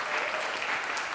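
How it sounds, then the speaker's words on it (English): A town hall audience claps in a dense, steady burst of applause, close and even throughout the short moment with no voices over it. "Let's give Ted a round of applause."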